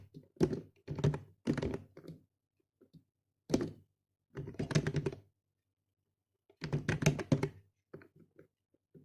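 Typing on a computer keyboard, heard as bursts of clustered thumping keystrokes with short pauses between groups, fairly close and alone with no voice.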